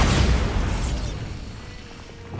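Bombarda explosion spell in the game Hogwarts Legacy, a single deep, rumbling blast that bursts at once and trails off over a couple of seconds.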